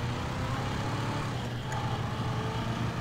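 Car engine in GTA 5 Online, a steady low drone that stays loud and unbroken from start to finish with no talk over it.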